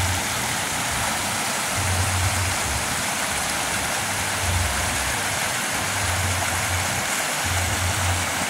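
River water flows steadily beside a riverside hut in Citeureup, Bogor, a continuous loud broadband rush with no talk.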